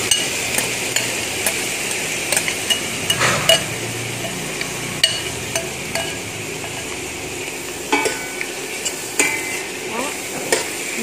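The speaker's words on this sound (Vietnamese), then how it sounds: "Chúng ta sẽ bắt đầu bỏ hến vào nồi nhé." Clams are stirred in a pot for clam porridge, a utensil scraping and clinking against the metal in repeated sharp strokes over a soft sizzle, close and with no talk.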